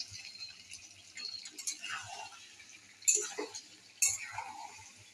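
Chicken being stirred in a pan while cooking, with scraping and clinking of a utensil against the metal, a few sharper knocks, and faint sizzling, fairly quiet and close.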